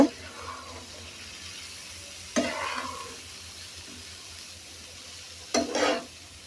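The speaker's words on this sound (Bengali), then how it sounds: "নুডলস দেওয়া শেষ। এখন আমি নাড়াচাড়া করে নিব।" Boiled noodles frying in a pan are stirred in two brief scraping bursts, several seconds apart, over a faint low sizzle.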